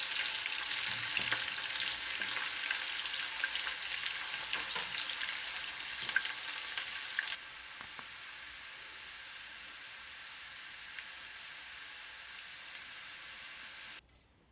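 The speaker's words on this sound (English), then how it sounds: "Frying them until they are lightly browned." Goulash ingredients frying in a pan until lightly browned, a steady close sizzle and hiss with faint stirring, easing slightly in intensity halfway through and stopping abruptly at the end.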